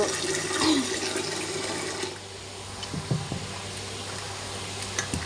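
Water runs from a kitchen tap in a steady rush for about two seconds, then drops to softer splashing and trickling while dhokar batter is rinsed and washed, close by with no voices.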